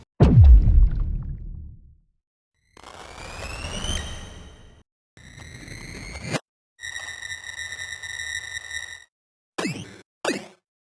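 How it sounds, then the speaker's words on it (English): A heavy impact opens, followed by reversed impacts through a resonator and bit crusher: processed, metallic resonant tones and rising sweeps, ringing with harmonic pitches and gritty distortion, separated by short silences. "reverse some impacts that are being put through a resonator and bit crusher"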